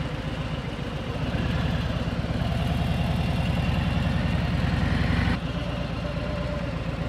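A motorcycle engine idles close by with a low, steady throbbing pulse that swells slightly before dropping back abruptly near the end.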